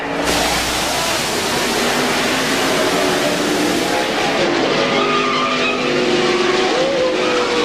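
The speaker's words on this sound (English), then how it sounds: "another truck is going to come along and hit him. Here, watch and listen." NASCAR race trucks roar past in a crash, tires squealing and skidding, a continuous dense rush of engine and crowd-like noise throughout.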